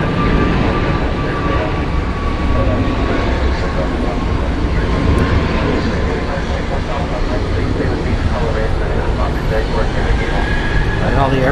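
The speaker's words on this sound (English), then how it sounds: "it's a heavy 777-200 inbound from Cancun." A heavy Boeing 777-200 airliner inbound to Dallas Fort Worth roars continuously overhead, a loud, broad rumble holding steady throughout with a faint whine on top.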